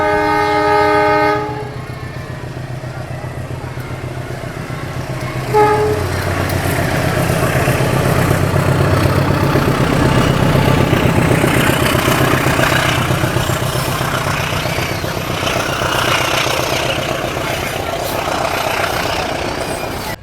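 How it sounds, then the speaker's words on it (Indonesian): Tawangalun passenger train departing Probolinggo station at night, a loud horn blast opening before the rumbling wheels and clattering cars take over as it pulls away, with a brief second horn toot. "itu tadi kereta api Tawangalun berangkat dari stasiun Probolinggo"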